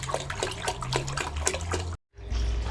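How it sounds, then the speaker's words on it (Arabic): Cold water gushes and splashes into a bucket of hot water, mixing it to fill an aquarium during a water change. The pour is loud and close, then briefly cuts out and resumes as a steady rush. "بهذا السطل مياه حارة راح أضيف وياها مياه باردة"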